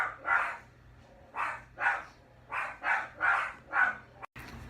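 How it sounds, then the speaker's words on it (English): Dogs barking indoors in a series of about seven evenly spaced barks at a moderate distance, fairly loud against a quiet room with no speech, ending in a brief dropout. "I don't know why my dogs are barking."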